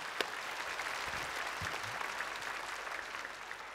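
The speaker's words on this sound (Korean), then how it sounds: "여러분 박수 한번 해주세요" Audience applause in a church during a worship service, a steady wash of clapping that runs the full length without a break, moderately loud.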